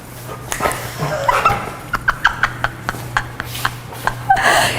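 Dogs in a training session bark sharply in a repeated series of short yips, with whimpering and some movement noise before and around them, close and fairly loud.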